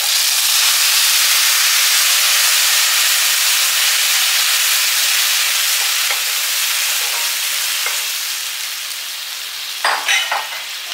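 Tomato juice poured into a hot pan for Tamil kuzhambu, a loud steady sizzle and hiss that slowly fades, ending with a few clinks of a utensil, no talk.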